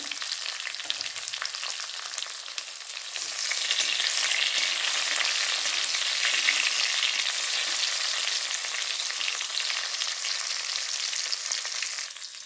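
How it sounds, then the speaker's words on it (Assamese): Chopped tomatoes fry in a pan, a continuous close sizzle that swells louder after a few seconds and then holds as an even, bright hiss with fine crackling, no voices. "কাটি লোৱা বিলাহীখিনি দি ভাজি ল'ম"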